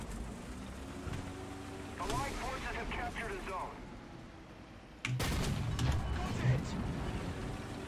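A tank cannon in the War Thunder video game fires an M82 shell with a booming low blast partway through, set against a constant engine rumble, while a player speaks over the action.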